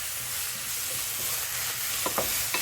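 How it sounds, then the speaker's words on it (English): Garlic, ginger and softened onions for a chicken and potato curry sizzle steadily in a pan, with a couple of brief stirring scrapes near the end. "Give that a stir"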